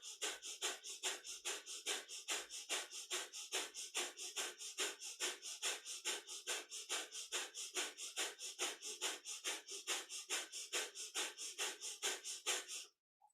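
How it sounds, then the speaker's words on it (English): Breath of fire kundalini yoga breathing, rapid steady rhythmic nasal exhalations, roughly three per second, close and evenly paced for about thirteen seconds, then stopping abruptly. "Breath of fire is a lovely cleansing breath."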